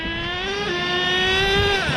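A nitro-powered HPI Savage XL RC truck engine with a K5.9 or X4.6 motor holds a steady, loud high-pitched whine that drops slightly in pitch partway through, as it shifts gears, then continues revving.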